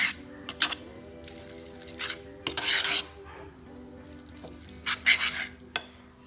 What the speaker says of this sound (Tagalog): Halo lang hanggang sa maging equally divided.